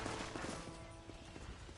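Gunfire in the Red Dead Redemption video game, a scattered volley of distant shots sounding over a thick, steady game ambience.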